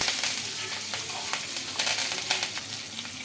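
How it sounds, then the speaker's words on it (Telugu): Onions, dried and green chillies and curry leaves sizzle steadily in hot oil for a ragi upma, with a constant close crackle and light stirring scrapes throughout; no voices. "ఇంకా ఇందులోకి కరివేపాకు ఆనియన్స్ ఎండుమిర్చి పచ్చిమిర్చి అయితే వేసుకున్నానండి ఇవి కొద్దిగా బ్రౌన్ కలర్ వచ్చే వరకు ఫ్రై చేసుకున్నామండి"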